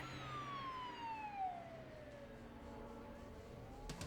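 A police siren wails outside, its tone sweeping downward as it passes at moderate distance over steady traffic and street noise, with a brief clatter near the end.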